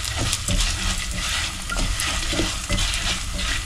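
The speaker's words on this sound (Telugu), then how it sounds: "పసుపు వేసేసుకొని కొంచెం సేపు ఫ్రై చేసుకోవాలి, నైస్గా దోరగా ఫ్రై చేసుకోవాలన్నమాట" Turmeric frying in a pan for methi dal, a dense, continuous sizzle close up, with faint stirring movements and no talk.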